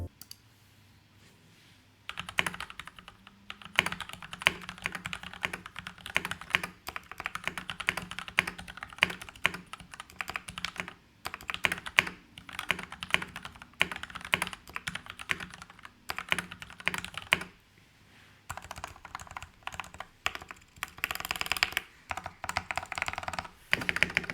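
Typing on a GK87 tenkeyless mechanical keyboard fitted with lubed budget linear switches: dense, steady keystroke clatter in bursts with brief pauses, close and clear, no voices.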